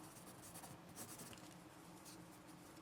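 A Staedtler Norica graphite pencil scratches steadily across paper in soft, continuous strokes, quiet and close, with no talking.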